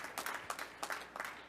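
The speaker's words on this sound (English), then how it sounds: "let's give Larry a warm round of applause in his absence" Applause from the audience at a Rotary Zones 33/34 Impact Summit 2022 closing session, a short burst of scattered hand claps, moderately close and fairly light, with no voices over it.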